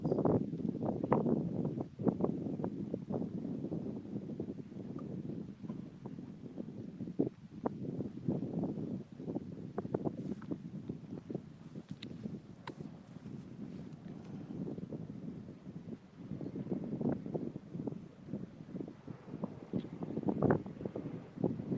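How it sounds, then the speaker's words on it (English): High wind blows across a tidal catfishing channel on an overcast day with an incoming tide, a constant rushing buffet broken by repeated gusty bursts and faint rattles. No one speaks. "So here's the wind conditions, as you can see."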